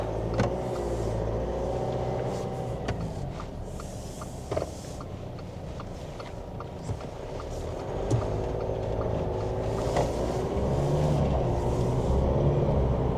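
A JAC T9 ute with a 2-litre turbocharged four-cylinder engine drives on a New Zealand road, heard from inside as a steady low engine drone with road rumble and occasional clicks and bumps, no talk.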